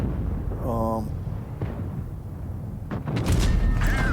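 Tank cannon fire in World of Tanks Blitz: a loud booming shot near the end rises over a noisy battle bed of rumble and scattered impacts, with game sounds and chatter running throughout.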